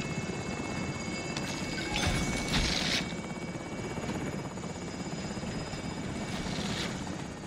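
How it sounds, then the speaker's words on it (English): A helicopter in the video game Call of Duty: Modern Warfare, Plunder mode, whirs with steady rotor buzz and engine drone, loud and continuous, swelling briefly, with no talk over it. "Carl stole the heli"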